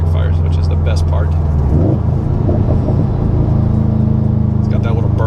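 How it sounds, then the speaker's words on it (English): A 2019 Subaru STI fitted with a Remark exhaust rumbles close by, with a deep, steady burble that roughens as the gas is pressed lightly midway through. "you step on the gas just a little bit and you hear that rumble"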